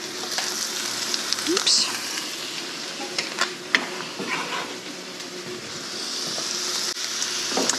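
Carrots hit a hot pan for Asian pork lettuce wraps, giving a steady, close frying sizzle with a few stirring scrapes and clatters, and a brief voice breaks in over it.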